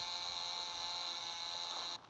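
In the game Chicken Gun, a car fitted with a chainsaw saws into another car, giving a thin, steady, high-pitched buzzing whine that holds for about two seconds and then cuts off, with no talking.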